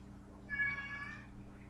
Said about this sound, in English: you can hear my kitty